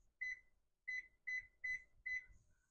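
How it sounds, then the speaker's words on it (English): A kitchen timer beeps five times close by, one chirp then a quick run of four, clean and alone against near silence. "I should probably set a timer."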